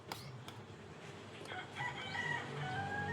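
Chickens cluck and a rooster crows at a distance, faint over quiet outdoor background.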